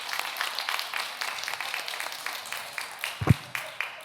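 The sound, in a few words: congregation applause in church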